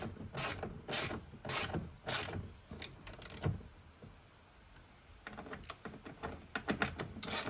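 Ratchet driving screws into a plastic speaker mount in a 2019 fifth-generation Ram 1500 truck: quick bursts of clicking ratchet strokes, a quiet pause, then another run of clicks, close up and alone.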